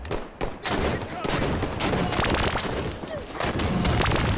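Rockets firing and bursting in a Halo 5: Guardians Assault match, several sharp booming blasts amid loud, chaotic gunfire and explosions, close and dense throughout.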